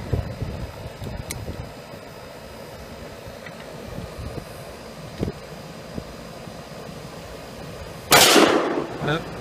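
An S&W 629 .44 Magnum revolver fires at steel targets outdoors: a couple of faint sharp reports early on, then one loud blast near the end, with quiet background between shots.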